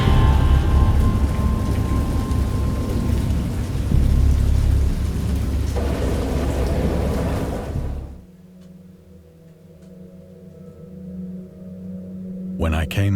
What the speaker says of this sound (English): I heard pearls of thunder and other tones which nature utters only in